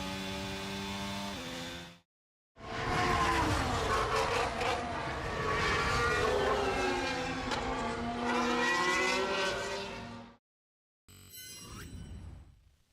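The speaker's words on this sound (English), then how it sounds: "Last corner, full throttle once again with the DRS open, and that is a lap of Austin, Texas." An F1 Academy race car at full throttle on the Austin, Texas circuit with DRS open, its engine howling loud and steady with rising and falling pitch for several seconds, cut by brief gaps.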